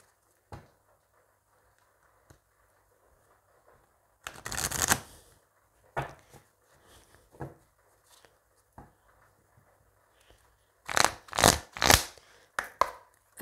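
Oracle cards shuffled by hand in bursts: a brief riffle around the middle, a few scattered soft card flicks, then a louder run of quick repeated shuffles near the end, close up with no talking.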